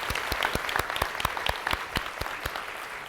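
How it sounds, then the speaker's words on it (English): An audience claps at a tech talk in Sweden, the individual claps sharp and clearly separated, roughly a dozen hands spread across a few seconds, close and fairly loud with no voices over it. "Can you give them a quick round of applause?"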